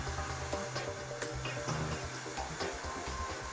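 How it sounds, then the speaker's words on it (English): A BDS AutoCUT 500 automatic chamfering machine mills a steel edge, a steady dense mechanical whine and grinding roar with a low motor hum, continuous and fairly loud throughout, with occasional brief clanks. "As soon as a slight milling noise is heard, the feed ring is locked again by means of the 2 clamping levers"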